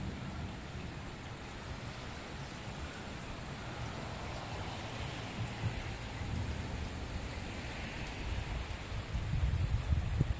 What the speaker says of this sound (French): on voit bien la pluie là